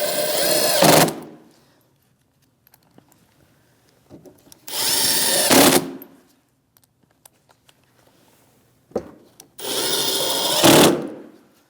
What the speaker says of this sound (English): Same 7mm socket, 3 screws with the washers, and we'll tighten them right up.